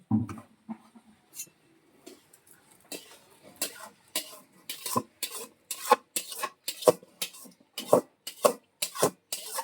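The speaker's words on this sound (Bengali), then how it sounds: "চালের ভিতরে আমরা ডালটা মিশিয়ে নিচ্ছি" A spoon stirs lentils into cooked rice in a pot for khichuri, making a run of rhythmic scraping and rubbing strokes against the pot that grow steadier and louder as the mixing goes on.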